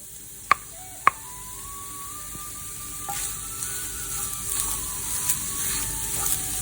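Khoya being stirred in a pan as coconut goes in, a soft continuous sizzle with a couple of sharp knocks early on and light scraping strokes through the rest.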